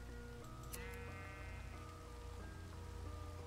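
A single sheep bleat from a video game rings out clearly over a steady patter of in-game rain and a low, droning background.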